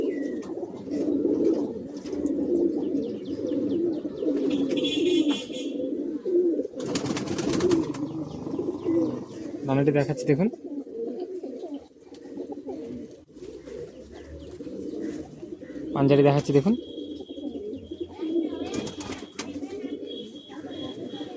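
Madrasi high-flying pigeons kept for sale coo continuously in a loud, close, overlapping chorus, with occasional clatter and wing sounds as someone talks over them.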